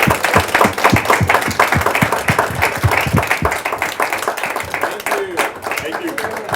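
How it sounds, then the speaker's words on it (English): A round of applause from an audience at a political event, strong rhythmic clapping that starts loud and close and gradually thins and softens toward the end, with a voice speaking briefly over it. "Let's give Cameron one more round of applause."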